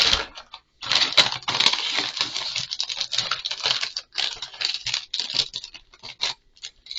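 Crinkly plastic packaging of shrimp mayonnaise chips is torn and rustled up close, in dense bursts of crackling that run for several seconds with short pauses.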